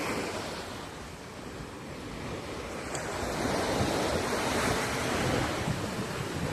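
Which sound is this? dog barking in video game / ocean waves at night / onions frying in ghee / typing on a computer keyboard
ocean waves at night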